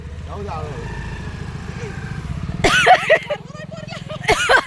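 A two-wheeler's engine hums low and steady as a girl rides it, with excited voices talking and laughing loudly over it toward the end.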